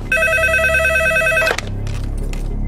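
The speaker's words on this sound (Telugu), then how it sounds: "వాడి ఇంటి నెంబర్ కలిపి నేను మాట్లాడతాను" In a film scene, a telephone rings with a clear electronic trill that stops abruptly, followed by a handset click and faint line noise.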